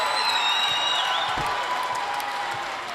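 A home crowd at a Baldwin Bulldogs versus Louisburg Wildcats basketball game cheers and applauds with a steady, fairly distant roar. A whistle-like tone sits on top, and the noise fades slightly toward the end.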